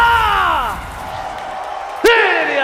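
An esports grand final audience in an indoor arena, a sustained murmur of crowd noise under loud commentator talk, followed by a sudden bright burst of whooping and cheering near the end.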